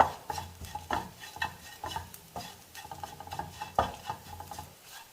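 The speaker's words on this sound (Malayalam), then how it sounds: "കുരുമുളക് പൊടി ഇത് ചെറുതിയിൽ വെച്ച് തന്നെ നന്നായിട്ടത് മൂപ്പിച്ചെടുക്കണം" Ground black pepper powder roasting in a pan for a fish masala, with a spoon scraping and stirring in irregular strokes over a faint, soft sizzle; close, moderately quiet, no talking.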